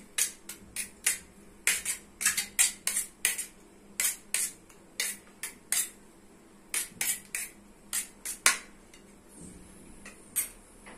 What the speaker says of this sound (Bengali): এর মধ্যে দিয়ে দিতে হবে একটা ডিম, আর মাংস এইভাবে মাখিয়ে দিতে হবে।